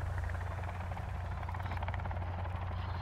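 A helicopter hovers nearby in a video game, a steady loud rotor thrum with a constant low pulsing beat, continuous throughout with no other sounds.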